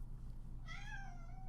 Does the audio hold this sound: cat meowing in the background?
yes